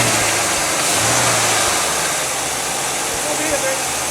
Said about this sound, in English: let me just start the car